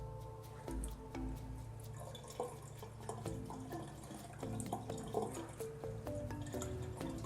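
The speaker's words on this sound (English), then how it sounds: "We're now doing the same for the filtered and boiling water." Faint, steady trickle from the filtered and boiling water side of a QETTLE tap spout, with scattered drips and small splashes landing in a sink, quiet and close, no voices.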